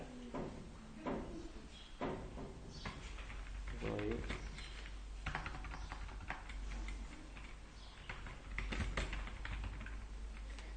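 Keys clack on a computer keyboard while someone types a document in Microsoft Word, giving sharp, fairly close taps in short irregular bursts over a low steady hum, with speech mixed in.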